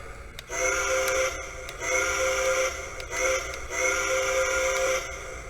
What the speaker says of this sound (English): Listen to the whistle here real quick.